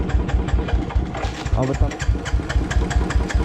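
A Royal Enfield-style Bullet motorcycle engine runs unevenly on a fuel-starved tank during an offroad ride, its steady low thump pulsing close by while people talk over it.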